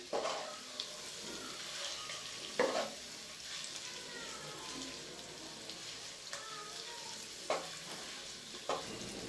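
Eggs frying in a few spoonfuls of oil for egg korma, a soft steady sizzle with occasional sharper crackles and a few stirring or utensil knocks, close by and fairly quiet.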